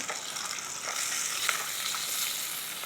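White onions sautéing in oil over a campsite flame, a dense continuous sizzle with soft stirring scrapes, close and steady, with no talking.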